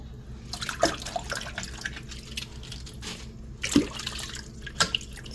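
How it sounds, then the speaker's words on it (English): Bok choy being washed by hand in vinegar water in a kitchen sink: soft close splashing and dripping with a few sharper sloshes as leaves are moved through the water. "So as I wash the bok choy in this vinegar water on the first wash"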